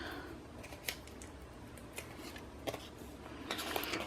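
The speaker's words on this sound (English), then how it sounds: "Okay, we take the paper off the backing of these." Paper backing peeled off small adhesive foam dimensionals during card making, heard as several short, faint crinkly ticks and rustles spread over a few seconds in a quiet room.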